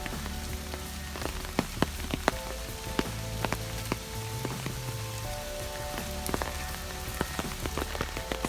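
Steady rain patters on surfaces during a foggy hike in Hong Kong, a continuous close wash of drops with scattered sharper ticks throughout.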